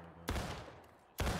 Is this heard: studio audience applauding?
no